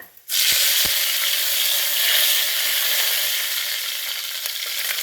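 Curry leaves and dried red chillies hit hot oil with a sudden loud burst of sizzling that stays strong and steady, easing only slightly toward the end, with a couple of faint clicks just before the spluttering starts.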